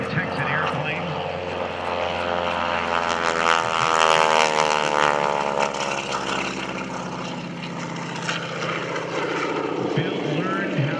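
A classic North American Texan propeller airplane flies at an airshow, its engine drone loud and sustained with a shifting pitch as it passes, and a voice talks over it.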